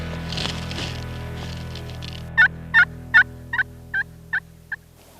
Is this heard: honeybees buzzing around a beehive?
no